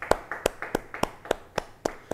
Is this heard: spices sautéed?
no